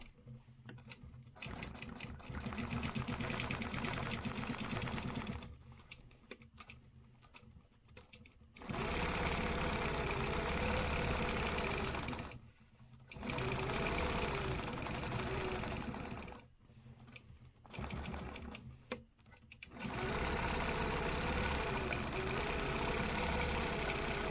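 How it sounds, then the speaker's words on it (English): A sewing machine stitches stencil lines in fast continuous runs, a loud close whirring hum that stops and starts several times with short quiet pauses between bursts. "Stitch in these main stencil lines."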